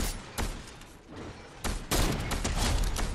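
Rapid bursts of gunfire in a Star Wars shooter match, several sharp blasts clustered near the start and a dense volley in the second half, loud and close with no talking.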